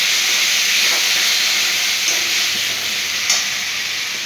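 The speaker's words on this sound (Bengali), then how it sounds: "এবারে আমি বেটে রাখা পোস্ত দিয়ে দিলাম, দিয়ে ভালো করে নাড়াচাড়া করছি।" Pointed gourd fries in a pan with ground poppy seed paste as it is stirred, a steady loud sizzle and hiss running throughout with a few faint scrapes of the spoon.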